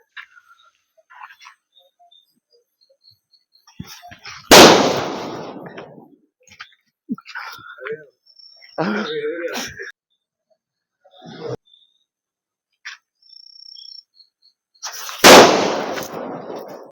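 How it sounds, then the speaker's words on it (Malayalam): Two loud, close firecracker bursts for Diwali, each a sharp bang with a crackling tail, separated by a stretch of quieter talk and small handling noises. "അങ്ങനെ ഞങ്ങള് ദീപാവലിക്ക് ചെറുതായിട്ട് പടക്കമൊക്കെ പൊട്ടിച്ചു."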